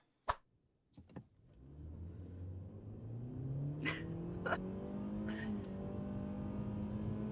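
After a few clicks and thumps, the 2-liter four-cylinder engine of a 2025 Kia K4 in sport mode starts and revs, its pitch climbing steadily as it accelerates, heard from inside the cabin.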